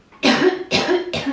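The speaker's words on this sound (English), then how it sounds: "I find that interesting that I started coughing as I did that." An adult coughs three times in quick succession, loud, close and harsh, with short gaps between each burst and no talking.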